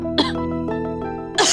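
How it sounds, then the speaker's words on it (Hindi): Two short, harsh coughs, near and fairly loud, with a sustained tonal hum between them. "आज तुम्हें बहुत खांसी आ रही है"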